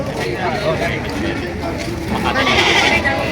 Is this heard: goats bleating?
yes